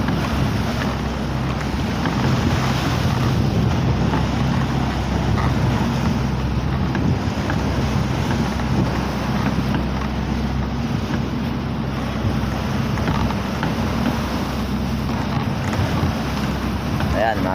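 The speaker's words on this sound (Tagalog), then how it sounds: "Baba para makita natin yung mga nagkana na alon." A moving fishing boat at sea, with wind buffeting the microphone and waves rushing and splashing around the hull under a constant low engine drone, steady and close throughout.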